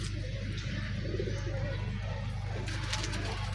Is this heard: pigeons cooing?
yes